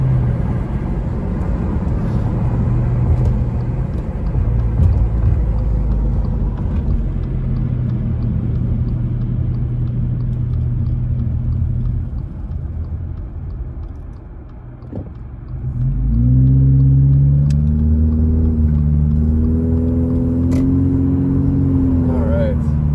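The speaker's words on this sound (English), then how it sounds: "Wow, we really are dragging that tumbleweed." A tumbleweed drags beneath a car on a snowy drive around Big Bear Lake, California, giving a steady low scraping rumble under the road noise; after a brief lull the engine tone rises and hums near the end.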